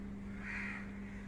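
A crow caws once at dawn in a drawn-out, harsh call over a steady low hum, moderately close and fairly loud.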